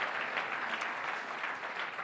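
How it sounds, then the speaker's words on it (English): Steady audience applause in a lecture hall after a student Hyperloop team presentation, a dense wash of clapping without pause. "I would like to applaud them"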